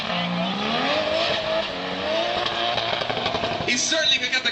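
A V8 twin-turbo S15 drift car at a pro drift event at Citywest, its engine revving loud and steady with rising, sweeping pitch and tire roar, continuous throughout with a harsher burst near the end.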